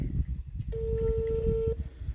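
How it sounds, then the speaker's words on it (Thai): Telephone tone heard during a call being placed, a single steady electronic tone lasting about a second, sounding over background chatter and room noise. "โทรหาเบาเทโซก่อน นะครับยัง ไม่รับสายเลย"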